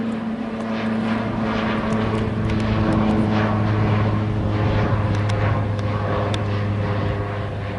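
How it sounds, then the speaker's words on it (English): An old propeller airplane drones overhead, a steady loud engine hum with a low tonal buzz holding throughout the passage, with no talk. "An old school plane right above here."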